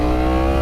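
A 2016 Yamaha R1 sport bike sends a brief, loud, close burst of engine revving through its exhaust.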